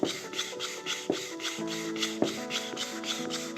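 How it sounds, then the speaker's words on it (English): Sandpaper rubs by hand over a wooden base in long, even back-and-forth strokes, with the piece held firm against a table; a close, rhythmic scratchy hiss with soft knocks at stroke ends and no talking. "You don't want the wood rocking around while you're running the sandpaper over it"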